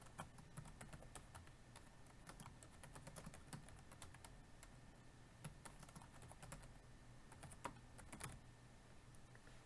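Quiet, steady keyboard typing on a computer, a rapid run of light key clicks close by with brief irregular pauses.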